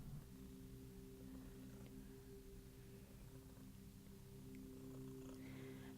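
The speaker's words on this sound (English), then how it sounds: "my cat is sitting next to me purring really," A soft, steady low purr rumbles continuously close by, quiet and even, with a faint background hum.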